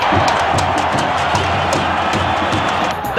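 A stadium crowd roars and cheers continuously at a 1997 MetroStars professional soccer match, a dense, loud wash of voices with scattered whoops and claps throughout.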